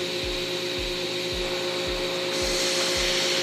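A table saw runs with a steady, bright motor whine, and faint low thumps recur about twice a second underneath.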